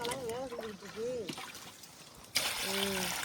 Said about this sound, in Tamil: இன்னும் கொஞ்சம் தண்ணி ஊற்றுங்க.